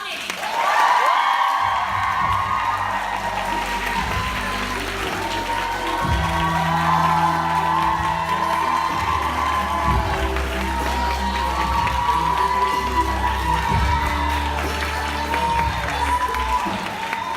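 A conference audience at the Her Campus event applauds and cheers as the closing keynote speaker, Logan Browning, takes the stage. Dense, steady clapping with whoops and shouts continues loudly and without a break for the whole stretch.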